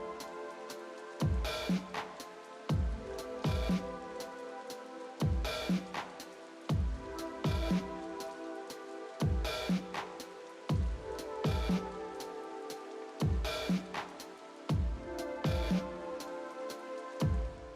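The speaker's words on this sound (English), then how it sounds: "some like distant rain sounds" Distant rain sample layered into a lofi beat, soft patter and drips beneath repeating plucked chords and thumping beats, steady and mellow throughout.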